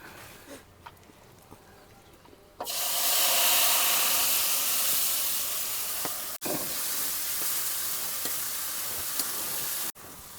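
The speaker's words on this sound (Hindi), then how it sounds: "देखिए दोस्तों महाराज जी तेल में मेथी डाल दिए" Fenugreek seeds and coriander hit hot oil in a pot for a buttermilk kadhi and burst into a loud, steady sizzling hiss that holds for several seconds, briefly cut twice, after a quieter stretch of faint kitchen noise.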